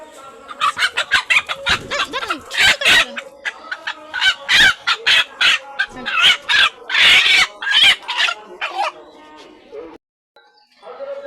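A loud, close rooster being caught for slaughter squawks and clucks in repeated frantic bursts for about ten seconds, then falls silent before faint sounds resume.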